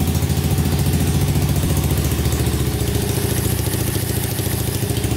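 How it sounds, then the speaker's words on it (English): A Honda 200X engine idles steadily on its own, a close, even, low putter with a light mechanical clatter and no knocking, holding constant for several seconds. "No knocking going on in the engine. Really quiet for a Honda."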